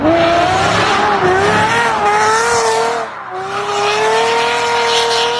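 A loud tuned car with a Mercedes engine revs with a high-pitched whining tone that rises and holds, briefly dropping off before surging again, close by.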